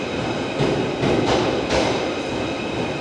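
A steady rumbling drone of a four-car Class 777 electric passenger train on the West Kirby service rolls past nearby, with faint rhythmic clatter over the rails and no talking.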